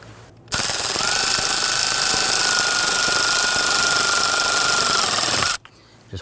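A power tool drives a screw into a 1999-2004 Jeep Grand Cherokee HVAC blower motor assembly, one continuous loud whirring burst of about five seconds, starting and stopping abruptly, close by.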